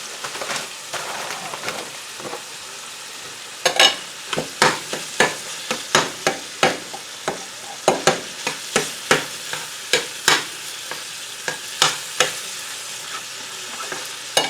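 Herb and cornbread stuffing is being mixed with cooked sausage in a bowl, making a run of close, wet, squelching stirring strokes that come in a fairly regular rhythm.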